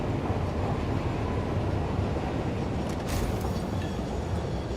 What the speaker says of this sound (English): Trains are so loud.